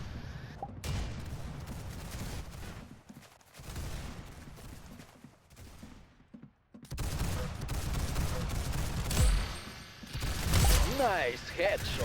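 Bursts of rapid gunfire from a video game shooter, loud and near, sometimes dense like automatic fire, with brief lulls between volleys and voices mixed in.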